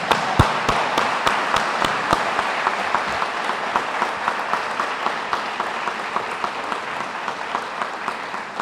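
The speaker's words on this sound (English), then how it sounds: "Let's give them a round of applause" Applause at a police department pinning ceremony, dense and steady from a seated crowd, with sharp individual claps standing out early and gradually thinning toward the end.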